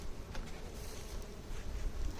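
Honeybees buzz steadily around an open hive during a first spring inspection of a calm colony, a dense close drone of many wings with no voices.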